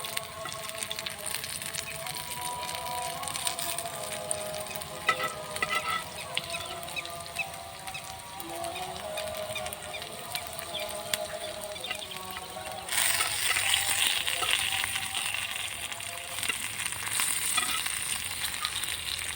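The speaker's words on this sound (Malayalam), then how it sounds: "നമ്മുടെ മീൻ ഒരു സൈഡൊക്കെ നല്ലോണം പൊള്ളി വന്നിട്ടുണ്ട് ഇനി നമുക്കത് മറച്ചിട്ട് കൊടുക്കാം" Fish frying in a pan, with a continuous crackling sizzle that holds steady and then grows louder and brighter partway through, with no talking.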